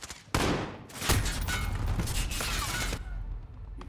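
Gunfire in a Call of Duty match erupts in loud bursts: a sharp crack, then rapid sustained volleys of shots with shattering impacts, fading near the end, without talk.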